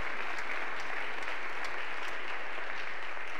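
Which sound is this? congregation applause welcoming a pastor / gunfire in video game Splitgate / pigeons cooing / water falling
congregation applause welcoming a pastor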